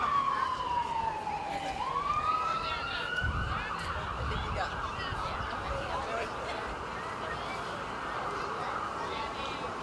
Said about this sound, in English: Wait till the alarms go.